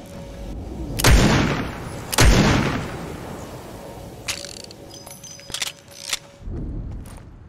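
Gunfire in the video game Fortnite Season 8 on Xbox: two loud, sharp shots about a second apart, each with a booming tail, followed by quieter clicks and rattles of weapon handling and a third muffled blast near the end.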